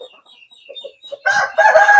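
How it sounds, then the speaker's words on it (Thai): A fighting rooster crows loudly and close on a chicken farm in Laos. Two strong crows burst out after a few soft, scattered chirps. "มีไก่ตีหลายสายพันธุ์พี่น้องเลยโอ้"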